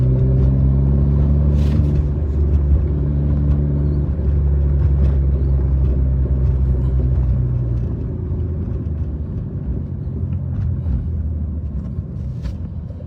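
A turbocharged car drives along with a steady, loud engine rumble, its tone stepping down smoothly partway through as it shifts gears, heard from close by with no voices.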